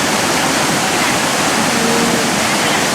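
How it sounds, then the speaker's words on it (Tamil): Devi Falls waterfall in Pokhara, Nepal, roars as a loud, steady broadband wash of rushing water, dense and continuous throughout with no pauses. "நீங்கள் பார்த்து கொண்டிருப்பது தேவி ஃபால்ஸ். நேபாளிலே பொக்காராவிலே தேவி ஃபால்ஸில் பார்த்து கொண்டிருக்கிறீர்கள்."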